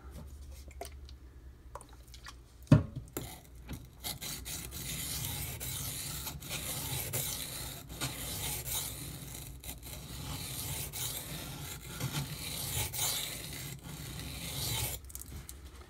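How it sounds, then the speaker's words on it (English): A D2 steel knife blade scrapes against a sharpening tool, a continuous soft rasping and rubbing heard up close, with one sharp click early on. "You hear me scrape that sharpening tool because I'm having to get so damn close."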